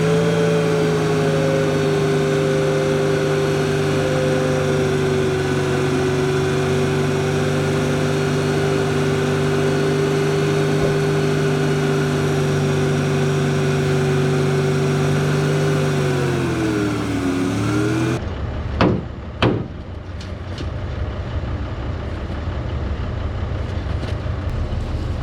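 Tractor engine running the PTO to raise a 1979 dump trailer, a loud steady drone with a hydraulic whine that dips near the end before the engine cuts and a few clunks follow.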